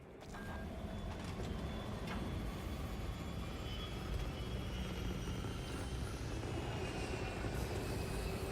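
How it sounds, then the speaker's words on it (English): A Thunderhawk gunship from Space Marine 2 arrives at the evacuation point, its engines roaring in a steady, broad, fairly distant rumble throughout, with no talking. "Thunderhawk arriving at evac point."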